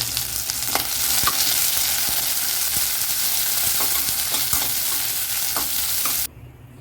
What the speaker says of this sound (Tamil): பாருங்கள் வெங்காயம் வதங்கிடுச்சு